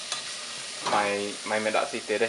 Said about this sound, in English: we're going to go ahead and cook it in a pan.